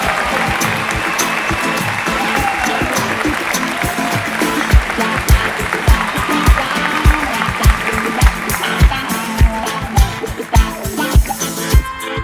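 Gala audience applauding the 2020 Akademia Pop Rock Artist of the Year at an awards event, loud close clapping with crisp individual hand claps throughout, plus a few whoops, building slightly toward the end.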